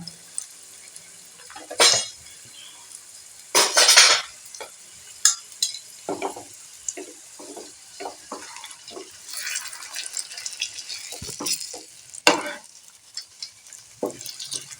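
Aloo paratha being rolled out and fried in oil in a pan, with bursts of sizzling and scraping of a utensil against the pan, plus clattering kitchen handling sounds spread over the clip, with no talk.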